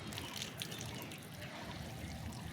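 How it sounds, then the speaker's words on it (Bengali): Water trickles and splashes steadily onto a freshly repotted Aglaonema plant, a soft continuous pour with faint dripping and no talking. "গাছটা ধুয়ে দিয়ে জল দিয়ে দেবো"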